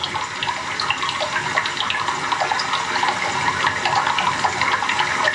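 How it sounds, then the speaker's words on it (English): Meltwater running as a small river deep inside a Greenland ice crevasse makes a continuous bright rushing and gurgling of water, steady and fairly close, with no voices. "It's like a small river."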